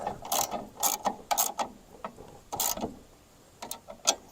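Wrench tightening a new roller guide on a Norwood HD36v2 sawmill: short, close bursts of ratcheting clicks come in uneven groups with brief pauses between them.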